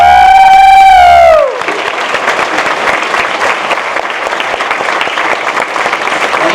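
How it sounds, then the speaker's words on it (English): Loud, dense audience applause at a D23 pre-show for the Country Bear Musical Jamboree, a steady wash of clapping with some cheering that starts after a brief sustained tone and continues unbroken. "Big round of applause for Ken."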